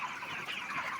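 Broiler chickens in a poultry shed keep up a steady, dense chorus of soft clucks and chirps, a continuous flock murmur with no single bird standing out.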